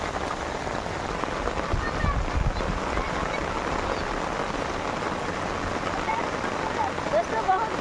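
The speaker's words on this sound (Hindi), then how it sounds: "दोस्तों बहुत जोर बारिश आ गई" Heavy rain pours steadily in a continuous hissing patter, with occasional low thumps and muffled activity nearby.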